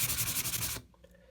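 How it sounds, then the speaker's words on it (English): Rapid, rhythmic rasping of sanding filler on a fiberglass bathtub, close and steady for under a second, then stopping abruptly, leaving only faint light taps. "we'll just keep sanding"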